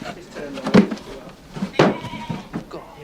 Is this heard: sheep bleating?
yes